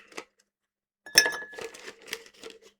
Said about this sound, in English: back to fucking picking ice cubes out of my cup